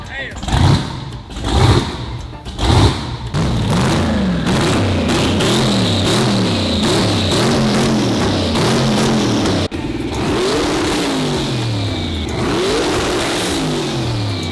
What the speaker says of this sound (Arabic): وبعد كده بيرجع يشغل المحرك تاني وبيسيبه شغال لفتره